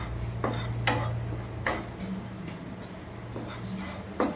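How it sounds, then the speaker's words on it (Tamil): Gram flour being stirred and dry-roasted in a pan for Mysore pak: a spoon scrapes and taps the pan in irregular strokes, fairly close, over a steady low stove hum. "அந்த கடலை மாவை நல்லா மிக்ஸ் பண்ணி வறுத்துக்கோங்க ஒரு 3 மினிட்ஸ்."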